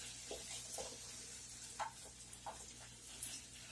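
Chicken cooking in about a tablespoon of virgin olive oil, with no butter, gives off a faint, steady sizzle with a few small pops and ticks scattered through it. No one speaks.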